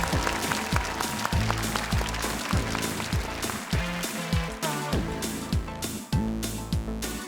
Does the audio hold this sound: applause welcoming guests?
yes